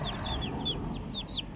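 An all-black mother hen on a farm with her brood, heard as a quick series of high chirping peeps over a low rumbling background, brief and close.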